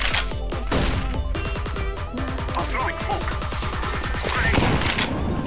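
Rapid game gunfire rattles through a Counter-Strike: Global Offensive competitive match, with dense repeated shots and crashing impacts over steady background noise; no single grenade blast stands out clearly.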